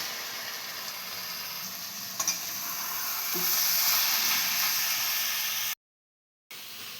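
Spinach and fried fish hiss and sizzle in a hot pan as they are stirred, with a constant close crackle and a few soft scraping knocks. The sound cuts out briefly near the end.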